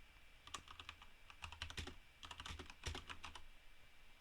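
Quiet typing on a computer keyboard, with clusters of quick clicky keystrokes separated by short pauses, close and alone with no voices.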